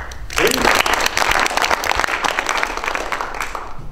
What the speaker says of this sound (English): I want everybody in here to give yourself a hand clap of praise